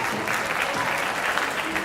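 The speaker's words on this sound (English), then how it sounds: "Give yourself a nice round of applause." A round of applause at an awards presentation, dense steady clapping from a crowd for the whole of the brief moment, fairly close and even in loudness.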